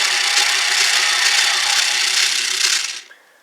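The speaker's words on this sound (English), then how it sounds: "via motor, the drill bit actually rotates" The motorised drill bit on a Kamen Rider Build Drill Crusher toy spins with a steady, buzzy plastic whir for about three seconds close by, then winds down and stops.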